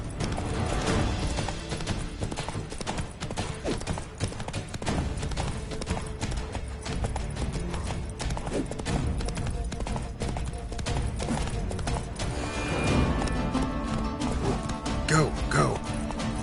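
A horse gallops with constant hoofbeats in the video game The Witcher 3, during a ridden course event. The pounding runs through a dense, busy game soundscape.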